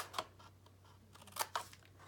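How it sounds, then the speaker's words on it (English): Small paper-craft scissors snip along the score lines of a scored card box lid: a few crisp, quiet cuts heard close up, one early and a quick pair near the end, over a faint low hum. "I'm just going to snip the score lines like I did with the base"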